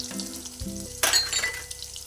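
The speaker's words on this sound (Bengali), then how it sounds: "পেস্ট করা মশলাটা দিয়ে একটু ভেজে নিচ্ছি ভালো করে" Ground turmeric, cumin and coriander with a spice paste frying in a pan over a homemade clay stove, a steady close sizzle with a sudden louder burst of crackle midway.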